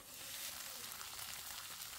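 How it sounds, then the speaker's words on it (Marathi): Cluster beans sautéing in a spoonful of oil in a kadhai, a faint, even sizzle and crackle running steadily throughout, no one talking. "आता आपण त्याच कढईमध्ये 1 चमचा तेल घालून या शेंगा थोड्याशा परतवून घेणार आहोत"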